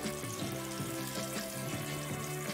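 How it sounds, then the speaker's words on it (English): Pork fat sizzles on a grill as meatballs cook, a close, continuous crackling fry that stays loud and even, with small rhythmic pops throughout. "Sizzling away that pork fat."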